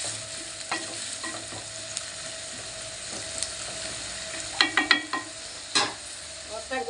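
Onions fry with salt in a pan, giving a steady quiet sizzle broken by scraping stirs and a few sharper clatters of a utensil against the pan.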